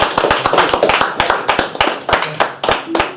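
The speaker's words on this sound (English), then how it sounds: "Big round of applause to Ollie and Will." Scattered audience clapping at a school enrichment-week event, honoring two young performers after a garden-party set; a modest number of close, distinct handclaps in an uneven rhythm for about three seconds.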